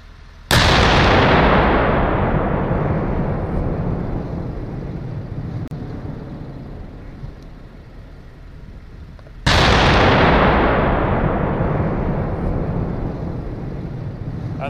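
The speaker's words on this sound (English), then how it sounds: "then we can fire four or six rounds or whatever the fire mission says" Two enormous booming blasts from an Archer self-propelled artillery gun firing rounds, each a sudden loud report followed by a long rolling decay, spaced about nine seconds apart with nothing else between them.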